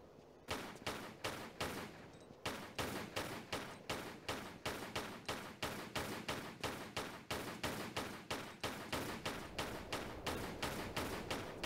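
Rapid gunfire from a Tomb Raider fan level, Isle of the Sun's Dogtown: a long, steady string of sharp, evenly spaced shots, about two per second, continuing throughout with only a brief gap early on.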